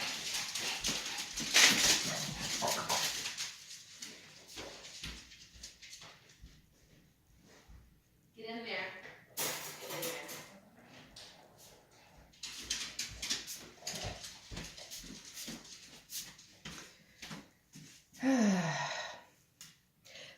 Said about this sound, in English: That was my parents' dog, Bruno.